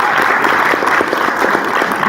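Audience applause fills a school board meeting, a steady dense clapping from the crowd that holds at a constant loud level for a couple of seconds with no break.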